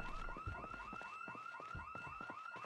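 A car alarm in the Project Zomboid video game, a repeating electronic whooping siren that sweeps up in a quick regular cycle, steady and prominent with no voices over it.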